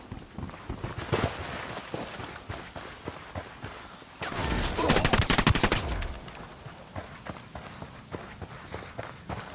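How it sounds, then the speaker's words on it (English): A sustained burst of heavy automatic gunfire in the open-world shooter Ghost Recon Wildlands rattles loudly for about two seconds, with scattered shots and scuffling movement before and after. "I'm opening fire on these shitheads"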